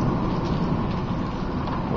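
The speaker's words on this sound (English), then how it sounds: "we're getting to the main part of the heart of the actual thunderstorm" Severe thunderstorm with steady heavy rain pouring down, a dense continuous roar of rainfall and low rumbling, loud and unbroken with no distinct thunderclap standing out.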